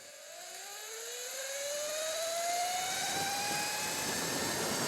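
EBMX X-9000 electric motorbike under full front brake and regenerative braking, a rising electric whine that climbs and levels into a steady high hum over wind noise, growing louder and continuous without talk.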